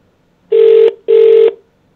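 Two identical buzzy telephone ring bursts come through a speaker, each about a third of a second long, loud and close, with a short gap between them.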